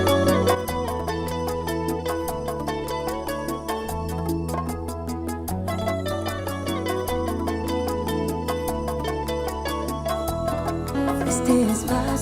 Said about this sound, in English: there's a song on there that we kind of did bachata style, and it's a song called Primera Clase